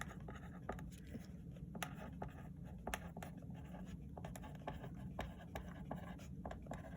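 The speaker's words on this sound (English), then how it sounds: "So I'm going to write" Pen writing on paper at a desk, a soft continuous scratching with small taps and strokes, quiet and close with a faint room hum behind it.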